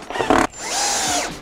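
Power drill driving pocket hole screws into a wooden farmhouse table, a short close burst of buzzing drill motor, a brief pause, then a rising and falling whir as the screw seats.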